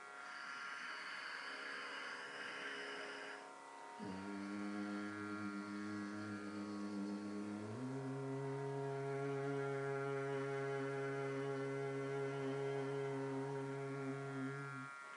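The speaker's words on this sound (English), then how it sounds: "don't say Om, just do the humming" A single person hums Om with closed lips during a yoga breathing exercise, a steady low drone that holds for several seconds, drops to a lower pitch, then continues alone without words.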